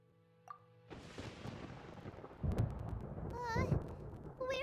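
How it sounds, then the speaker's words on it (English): Low rumbling thunder rolls in Genshin Impact, starting after a quiet moment and building into heavy booms over a couple of seconds, with faint game chimes and effects on top. "Paimon hears thunder!"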